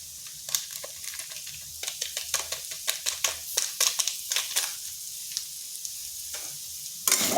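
Ground spices including chilli powder get stirred into a sizzling frying pan, with a steady hiss of frying under repeated scraping and clattering strokes of the spoon, close and fairly quiet.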